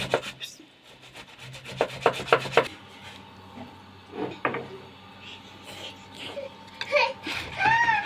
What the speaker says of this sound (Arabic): نبشر القوطه اهي، لسه بنخلص اهو كده